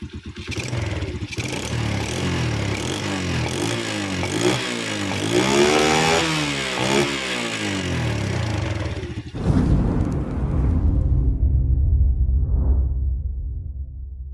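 A Suzuki V-Ixion (VGR New) motorcycle engine runs near and loud, its revs rising and dipping unevenly before settling into a rough, wavering idle that never quite holds steady.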